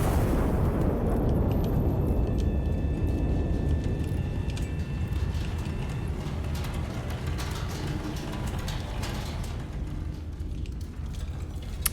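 A heavy turret gun in the Iron Nest simulator fires a star shell, a deep rumbling boom sustained as a dense low roar that slowly fades over many seconds, loud and unbroken.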